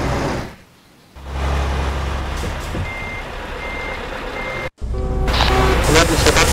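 A truck approaches with a loud, close engine rumble and reversing beeps sounding in short repeated pulses. The noise briefly drops away twice before the engine surges back.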